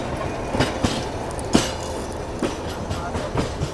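An Indian Railways express train rolls past close by, its wheels beating out a steady clickety-clack rhythm of sharp rail-joint knocks over a continuous rumble.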